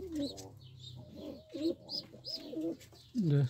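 Pigeons cooing inside a loft, several soft, close, repeated coos and throaty calls spaced across a few seconds against a quiet background.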